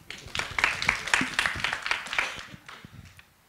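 A debate competition audience bursts into applause, a dense patter of many hands clapping close by that peaks quickly and then fades out over a few seconds.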